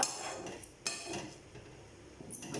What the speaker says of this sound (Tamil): இந்த மாதிரி வந்து கிளறி கொடுத்துட்டே இருங்க